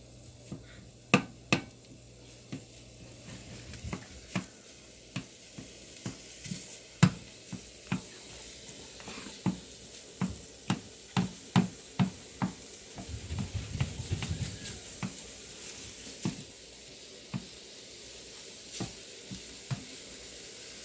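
Ground beef and sausage frying in a pan while a utensil stirs and scrapes it, a faint sizzle beneath a long run of sharp, irregular clicks and knocks.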